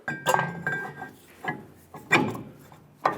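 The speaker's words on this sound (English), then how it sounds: "Now reinstall your rotor." Metal brake rotor being slid back onto the rear hub of a 2014-2018 GMC Sierra 1500, giving several separate clanks and clinks of metal on metal at an irregular pace, close up and with no talking.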